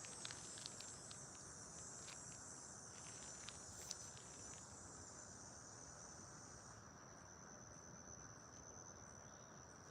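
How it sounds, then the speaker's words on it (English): A dense chorus of insects chirps steadily at night, a high continuous trill with faint rustling below and no voices. "And now all these bugs are making sounds."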